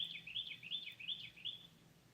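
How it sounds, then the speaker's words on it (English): Birds sing outdoors in a brief, faint, repeated high chirping phrase with no voices. "I can hear the birds."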